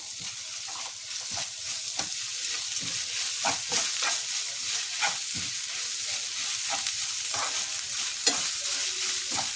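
Ginger garlic paste fries in a pan with a steady, close sizzle, while a utensil stirs and scrapes through it in repeated short strokes; no one talks.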